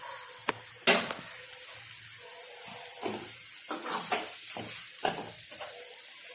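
Vegetable cutlet mixture with garam masala, turmeric and chilli powder being stirred in a pan over a low flame, with soft scrapes and light knocks over a steady high hiss of frying, close, with no talking.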